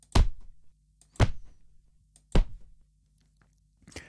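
Magic bolt particle impact sound effect with a deep thump, repeated three times at about one-second intervals, each a sharp hit with a short decaying tail, plus a fourth starting at the end.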